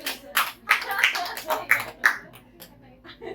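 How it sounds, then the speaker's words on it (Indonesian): Several short bursts of hand clapping from a small group in a studio talk show, uneven and fairly close, with faint talk in the background. "Tepuk tangan dulu, tepuk tangan."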